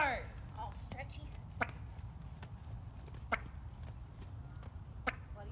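A horse walks during a riding session, its hooves landing in sparse, sharp clops at irregular intervals over a low background rumble, fairly faint and close.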